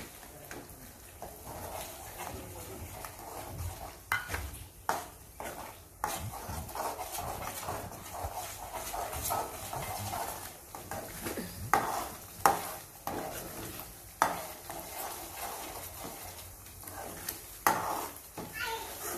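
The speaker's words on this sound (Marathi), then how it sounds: "त्यानंतर मी टोमॅटोची प्युरी टाकते ते।" Tomato puree added to a hot pan for cashew curry and stirred, with soft scraping, faint sizzling and occasional spoon knocks against the pan, while someone talks quietly throughout.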